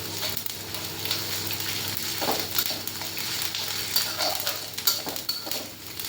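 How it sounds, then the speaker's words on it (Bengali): Garlic and ginger paste sizzles with onions in a pan, a constant close frying hiss broken by repeated scrapes and knocks of a spoon stirring against the metal. "পেঁয়াজগুলো হালকা বাদামি রং ধারণ করলে এতে 1 চা চামচের মতো রসুন বাটা এবং আধা চা চামচের একটু বেশি আদা বাটা দিয়ে দিলাম।"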